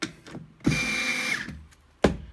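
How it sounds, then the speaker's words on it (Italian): Parkside cordless 3.6V screwdriver with a PH2 bit driving a screw, a short whirring motor burst between clicks and handling knocks, then a brief second start near the end. "mettere PH2, avvitare PH2"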